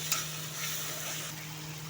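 Tomatoes and onions frying with turmeric and salt for begun chorchori, a soft, even sizzle close by with one brief clink at the start.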